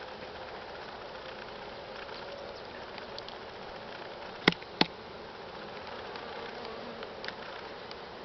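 A honeybee colony buzzing at an open hive box, a steady dense drone of many bees close by, broken by two sharp clicks midway.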